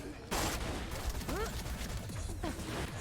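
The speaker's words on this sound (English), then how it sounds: "he is firing a really cool gun" Enemy gunfire in the FFYLands mod video game: bursts of rapid shots break out at the start and again near the end, mixed with a voice talking over the game sounds.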